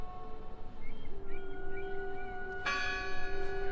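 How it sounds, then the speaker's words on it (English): Church bell in the game Draugen tolling with a long sustained ring, then a louder fresh strike near the end, its bright overtones lingering over quiet ambient sound. "The bell's still ringing."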